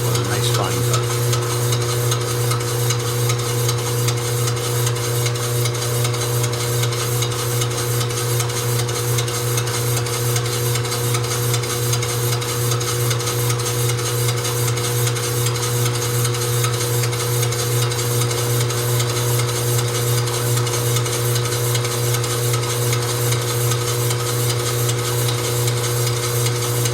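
Lathe taking a light trim cut on a Ford NAA Golden Jubilee tractor brake drum, a steady loud machine drone with a strong low hum and continuous fine cutting noise, unchanging throughout with no voices.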